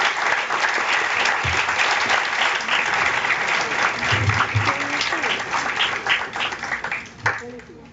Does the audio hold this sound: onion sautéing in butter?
no